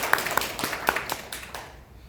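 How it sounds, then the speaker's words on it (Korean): A small audience at a Korean railway safety presentation claps briefly, a short burst of scattered hand claps that fades out within two seconds. "박수"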